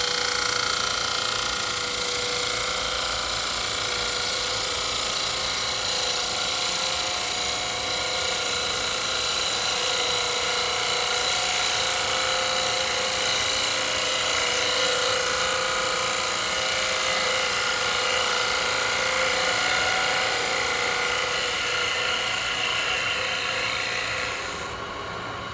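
Wood lathe running while a Christmas bauble is turned, a steady, loud whining hum with a constant high tone that holds evenly for about twenty-five seconds before easing off at the very end.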